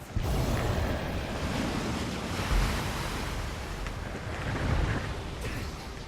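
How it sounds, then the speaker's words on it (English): A tidal wave attack crashes in World of Final Fantasy, a sustained roaring surge of water with a swell near the middle and again toward the end, loud and continuous with no talk over it. "Tidal wave."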